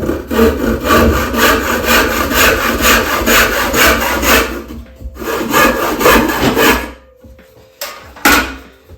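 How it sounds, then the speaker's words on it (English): A handsaw cuts through wood in a kitchen in steady rhythmic back-and-forth strokes, loud and close, pausing briefly before a few final strokes. "Ruth will go mad if she knows I'm sawing in the kitchen."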